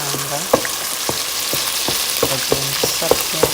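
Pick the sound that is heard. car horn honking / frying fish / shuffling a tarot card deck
frying fish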